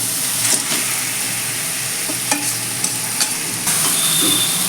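A katla fish head fries in a spice paste that has begun releasing oil, giving a loud, steady close sizzle with a few sharp clinks and scrapes of stirring.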